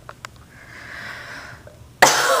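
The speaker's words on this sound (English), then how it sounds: "I cannot stop sneezing." A person suffering allergy fits sniffs and wheezes through a couple of short breathy bursts, then lets out a sudden loud close sneeze-like blast near the end, no talking.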